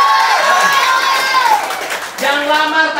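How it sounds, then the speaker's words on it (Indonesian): A room of children at a one-day English and character camp claps and cheers, with high shouting voices ringing over steady applause that dips briefly before swelling again. "Tepuk tangan lagi."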